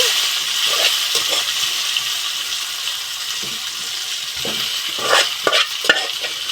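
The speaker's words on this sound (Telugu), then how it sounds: "జీలకర్ర ధనియాలు ఇప్పుడు మనం చేసుకొని కాసేపు ఫ్రై చేసుకోవాలి దీన్ని" Cumin and coriander seeds fry in a pan with a close, bright crackling sizzle, punctuated by intermittent stirring scrapes and taps.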